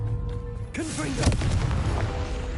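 Confringo blasting spell in Hogwarts Legacy, a sudden booming explosion with crackling bursts and a fading rumble.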